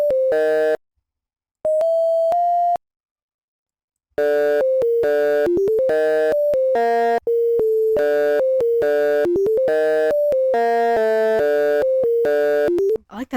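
Bright synth chords played in a free DAW, sounding as short, evenly spaced stabs that form a bouncy rhythmic pattern after a few sustained tones, loud and clean with no voices.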